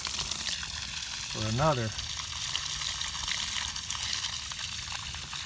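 Water gushing hard from an open outlet during a geothermal heating system startup, a loud continuous rushing hiss that fills the whole stretch, with someone briefly speaking over it.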